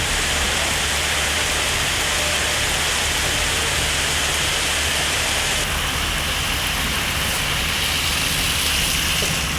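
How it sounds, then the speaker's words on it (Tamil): Heavy monsoon rain pouring down in the Nilgiris hills around Ooty, Gudalur and Pandalur, a dense, steady roar of rainfall that holds constant throughout with no voices. "நீலகிரி மாவட்டத்தில் உதகை, கூடலூர், பந்தலூர் உள்ளிட்ட பகுதிகளில் கனமழை கொட்டி தீர்த்தது."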